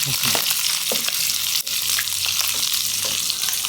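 Boiled chicken being stir-roasted with salt in a hot pan, a dense continuous sizzle and crackle with occasional scraping stirs, close and steady throughout, no voices.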